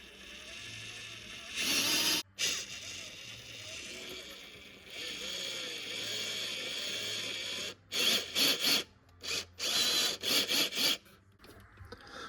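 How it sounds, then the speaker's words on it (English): The metal driveline and portal axles of a WPL C-64 RC car spin in short bursts, a whirring, raspy mechanical buzz that starts and stops repeatedly at close range, with a few pauses between runs. "Let's give these axles a spin."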